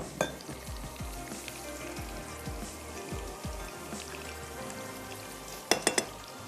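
Meat pieces and spices for rajma biryani sizzle in a covered pot, a steady low crackling fry with faint pops, ending in a few sharp clinks.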